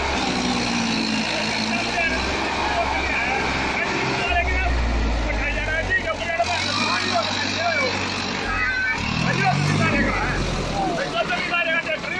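A Farmtrac tractor with a harrow set runs outdoors, its diesel engine a steady low rumble that swells and eases, with people talking loudly over it throughout.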